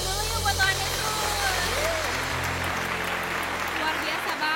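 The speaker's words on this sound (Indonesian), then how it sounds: "Kita kasih tepuk tangan dulu yuk buat Tuhan Yesus." A room of children clapping together in a steady, fairly loud burst of applause that holds for several seconds over a low background hum.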